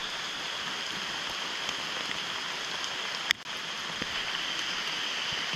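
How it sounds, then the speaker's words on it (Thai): Steady rain falls through the forest at Phu Soi Dao in Thailand, an even close hiss of drops on leaves with one sharp knock partway through and no voices. "ถึงได้ปากของฝนก็ยังตกเหมือนเดิมทั้งรอบๆ"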